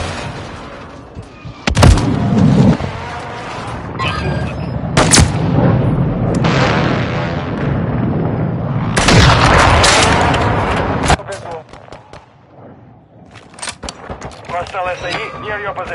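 Loud gunshots and booming blasts in Modern Warfare, sharp bursts and sustained firing with quieter stretches between; voices talk over the action.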